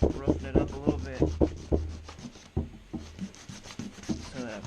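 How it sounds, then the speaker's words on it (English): Sandpaper of 120 grit rubs back and forth in quick rhythmic strokes, roughing up a surface before epoxy for off-road gear, close and fairly loud, with soft talk underneath. "I'm using some sandpaper 120 grit. Roughing it up a little bit"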